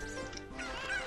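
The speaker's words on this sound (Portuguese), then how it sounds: "do jeito que o Jogi é bom em pegar galinha" Cucco chickens clucking in the video game The Legend of Zelda: Ocarina of Time, a steady honking, goose-like fowl call that runs through the whole short moment at moderate loudness.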